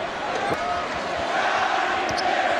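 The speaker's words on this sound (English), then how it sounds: "now you have the crowd chanting Scottie Pippen" An NBA arena crowd in Cleveland chanting Scottie Pippen at LeBron James's game, a broad rhythmic roar with basketball bounces and a commentator talking over it.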